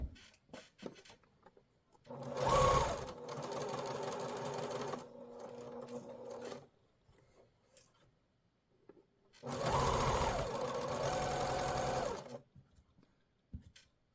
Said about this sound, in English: so we're going to sew this together